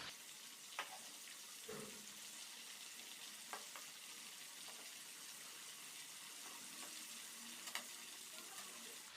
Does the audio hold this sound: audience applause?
no